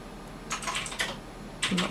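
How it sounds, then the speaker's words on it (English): Typing on a noisy new light-up computer keyboard, a few quick clusters of clicky keystrokes close by over a quiet background. "Lots of typing over there."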